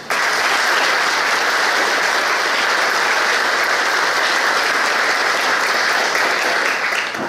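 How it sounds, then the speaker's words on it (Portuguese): Sustained, even applause from guests welcoming everyone at a family reunion celebration in Jaboticaba, with a full steady wash of many hands clapping for about seven seconds. "queremos acolher a todos com uma forte salva de palmas"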